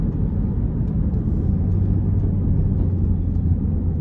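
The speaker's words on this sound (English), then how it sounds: "if you put it into sport mode, the car starts to produce a lot of sound out of it" A Mini Cooper S Countryman JCW engine in sport mode gives a deep, steady low rumble and drone, loud and continuous with no voices, as if heard from inside the moving car.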